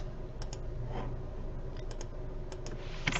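Fingers tap out a brief run of keystrokes on a computer keyboard, with crisp clicks scattered in small clusters over a steady low room hum, fairly close and moderately quiet.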